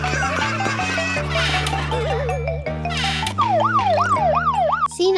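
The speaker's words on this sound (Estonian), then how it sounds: "Politseiauto." A loud police car siren wails in rising and falling sweeps, then shifts into a faster yelping pattern, with no talking over it.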